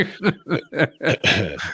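A person clears their throat in a series of short, harsh, croaky bursts, close and loud, about six in quick succession.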